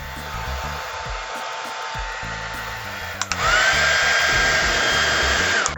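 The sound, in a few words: hair dryer running on second power setting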